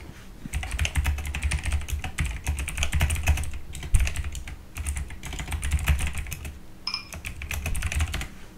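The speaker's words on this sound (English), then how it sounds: "Sorry with all the typing." Fast, steady clatter of keys on a computer keyboard during an online poker session, close and continuous for several seconds with brief pauses and no talking.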